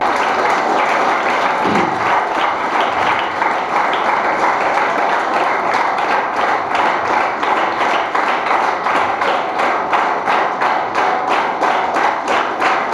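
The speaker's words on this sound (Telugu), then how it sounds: "చప్పట్లు కొట్టండి సార్లు అందరికీ." An audience of students and staff at a school traffic-rules awareness session claps for their teachers, a sustained dense patter of many hands applauding steadily for the whole stretch, with no talking over it.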